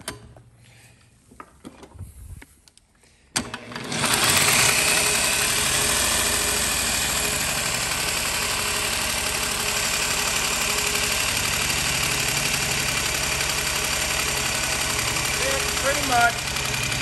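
A small Honda UT3 120 quarter midget engine starts up after a few quiet seconds and runs steadily at a fast idle, loud and close, continuing to the end.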